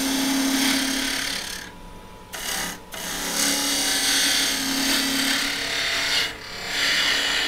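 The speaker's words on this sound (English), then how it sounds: "I switched out to my fat spindle gouge, and that helped me make a really nice ball right there" A spindle gouge cutting green wood spinning on a lathe, giving a continuous close scraping, hissing rasp with a steady hum underneath, broken by a couple of short pauses as the tool lifts off.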